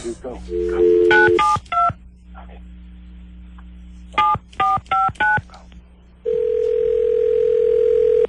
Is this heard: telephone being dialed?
yes